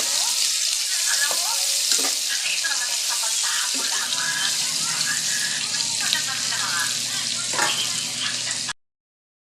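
Liver sautéing in a pan for a green bean stir-fry, a loud continuous sizzle with occasional clinks and scrapes of a utensil, ending abruptly in silence.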